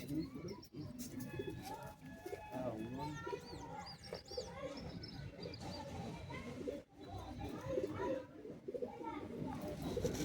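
A pair of pigeons for sale coos softly in repeated throaty calls, close by, under someone talking nearby.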